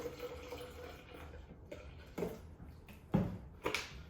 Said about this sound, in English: I'm gonna add 8 ounces of water.